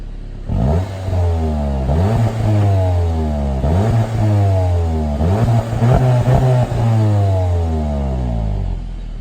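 A Seat Leon Cupra 290 engine heard from outside the car revs repeatedly, each loud rise in pitch falling away before the next, with no one speaking.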